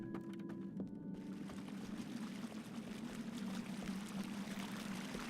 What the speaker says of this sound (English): Definitely hear some running water